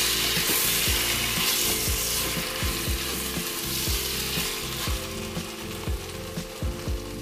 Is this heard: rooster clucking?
no